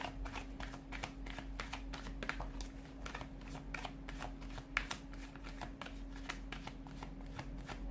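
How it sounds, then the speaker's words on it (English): A deck of cards is shuffled continuously, a close, dense patter of rapid riffling clicks over a low background hum. "give the cards a shuffle"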